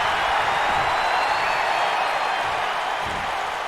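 Wrestling crowd at a N.E.W. Brawl show cheering for the Prodigy, a continuous roar of many voices filling the arena at steady, loud level without a break.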